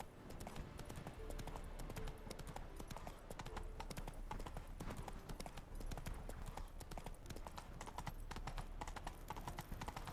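Hooves of Roach, the horse in The Witcher 3, clip-clop in a steady, continuous rhythm throughout, fairly quiet and even, with no pauses.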